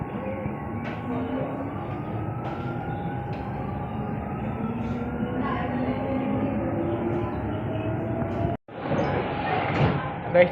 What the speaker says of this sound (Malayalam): ഞാൻ ഇങ്ങനെ മെട്രോയിൽ കയറി.